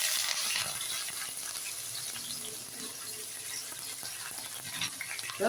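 Sliced big onions, three of them, fry in hot oil with spices for a mutton biryani, giving a steady, fairly quiet hiss and crackle that holds throughout without talk.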